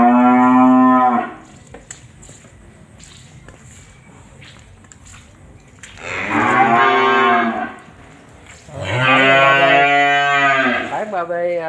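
Cattle mooing loudly close by, three long drawn-out calls separated by quieter gaps with faint shuffling and farm background noise.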